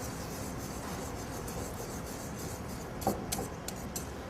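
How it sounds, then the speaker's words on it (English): A whisk scrapes steadily through bechamel sauce as egg is added for moussaka, a soft continuous rubbing swish close by, with a few sharper clinks against the bowl near the end. "I'm just going to slowly add the egg to my bechamel, whisking as I add it into it"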